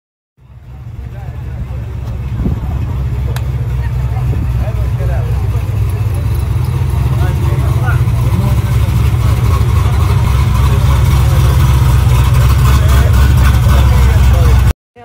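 A classic car at an outdoor classic car show starts up and settles into a loud, steady engine drone that rises and holds close by for the rest of the stretch.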